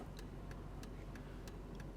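Turn signal relay of a 1999 Chevrolet Tahoe ticking steadily, six evenly spaced sharp clicks about a third of a second apart over a low idle rumble, close and clear with no talking.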